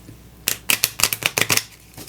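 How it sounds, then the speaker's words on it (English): A deck of playing cards shuffled once, a quick riffle of sharp crisp flutters lasting about a second, close and clear. "I'm gonna shuffle 1 time."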